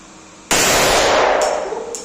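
A Bren light machine gun fired at a shooting range: one sudden, loud, close blast cracks out, then rings and decays for over a second, followed by two faint, sharp ticks.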